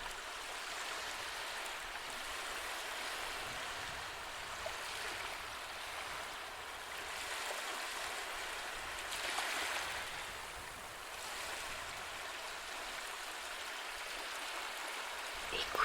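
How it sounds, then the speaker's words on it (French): Gentle waves wash onto a shore in a soft continuous hiss of water that swells slightly now and then, steady and fairly quiet throughout, with no voices. "Écoute attentivement le bruit des vagues"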